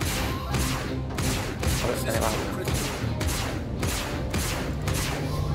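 Rifle fire in the space game Star Citizen, a loud close run of repeated shots in rapid bursts across the whole stretch, with someone speaking Italian briefly over it.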